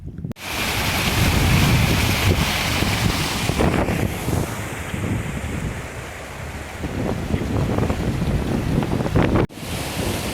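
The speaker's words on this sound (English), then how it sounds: "Quite an impressive amount of water coming down" A steady, loud roar of water rushing down a hillside on the Kilpatrick Hills fills the whole stretch, buffeted by wind noise against the microphone.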